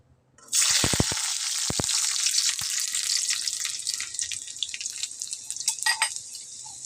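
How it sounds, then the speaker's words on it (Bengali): Seven or eight garlic cloves sizzle and spit in hot oil as they fry until reddish, a steady close crackle with a few sharp pops near the start and no talking. "যে আমার রসুন লাল লাল ভাজা হয়ে গেছে"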